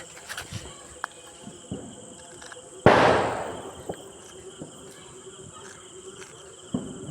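A single loud firecracker bursts during Diwali celebrations, a sharp blast that crackles and fades over about a second, with crickets chirping steadily in the night background and a few faint ticks around it.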